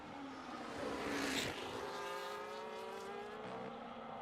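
An F1 car in F1 25 racing at Brazil, its high engine note rising and sweeping past at fair distance, fairly faint with a whooshing pass in the middle.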